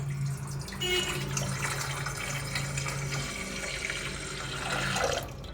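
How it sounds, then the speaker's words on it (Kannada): Water runs from a tap into a steel vessel for soaking kidney beans, a steady rushing splash that continues throughout at close range with no voices. "ಇವಾಗ ನಾನು ಒಂದು ಸ್ಟೀಲ್ ಪಾತ್ರೆ ತೊಗೊಂಡಿದ್ದೀನಿ. ಇವಾಗ ಅದಕ್ಕೆ ನೀರು ಹಾಕ್ತೀನಿ"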